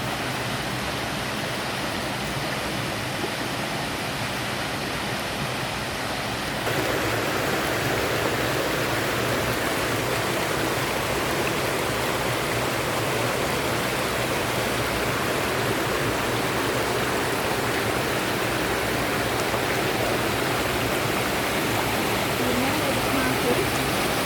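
A creek pours over rocky cascades in an Australian national park, a steady broadband rush of falling water that holds constant and close throughout, swelling louder after the first few seconds with no voices.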